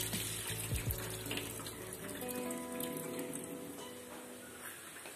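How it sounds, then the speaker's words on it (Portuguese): Water runs steadily from a tap as it drains off pieces of free-range chicken in a kitchen sink, a continuous close splashing hiss with a few gurgles and no talking. "a gente vai escoar a água do frango"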